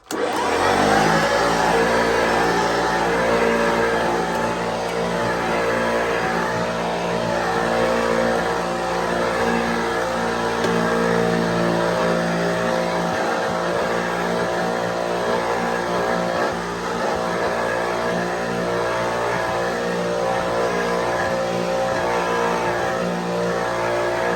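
A vintage 1978 Hoover Junior U1036 Gold upright vacuum cleaner running continuously, a loud steady motor whine and roar with a brief dip partway through, no voices.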